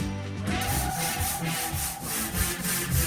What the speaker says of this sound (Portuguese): Aí já tá lixando